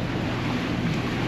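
A sailboat's engine drones steadily on a mirror-calm sea during an Atlantic crossing, a continuous low rumble with wind and water noise and no talking.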